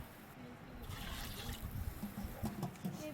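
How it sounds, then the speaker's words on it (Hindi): Water pours into a large cooking pot, a deg being filled with about ten litres for a commercial-style chana pulao, producing a soft, continuous trickling splash at a low level. "ये 10 लीटर पानी मैंने इसमें शामिल कर लेना है।"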